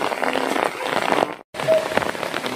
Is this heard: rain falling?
yes